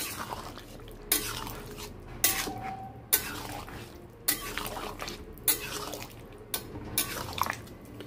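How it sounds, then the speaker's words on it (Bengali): A spoon scrapes and clanks around a pot as garam masala is stirred into a soybean, pumpkin and potato curry, in repeated close strokes about once a second with wet, sloppy stirring between them. "গরম মশলাটা দিয়ে একটু নেড়ে দেবো।"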